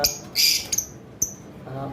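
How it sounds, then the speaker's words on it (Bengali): A pair of lovebirds, a cobalt blue Fischer's and a sable head, give sharp shrill squawks and short chirps at close range, two or three bursts in quick succession. "কোবাল ব্লু ফিশার যেটা মার্কস সিরিজের পাখি আর একটা যেটাকে আমরা স্যাভেল হেড লাভবার্ড বলি দুইটা মিলে একটা পেয়ার"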